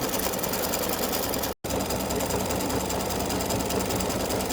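An embroidery machine satin-stitches the inside of a large heart on freestanding lace, giving a dense, fast, mechanical whir close by that runs steadily except for one very brief cutout.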